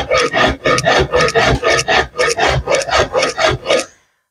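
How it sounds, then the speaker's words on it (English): A farrier's rasp drags across rubber wood in about fifteen steady, rhythmic rasping strokes, close and loud, each a coarse scraping pass followed by a brief pause, ending abruptly in silence. "Now I use my farrier's rasp that I got from my friend Koenraad to take away the edges and do some rough forming."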